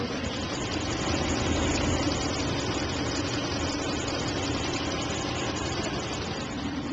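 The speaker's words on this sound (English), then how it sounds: "just hums. Still a good motor." A 1993 Lexus LS 400 V8 idles with a smooth, steady hum and broadband whoosh, nearby and constant with no speech.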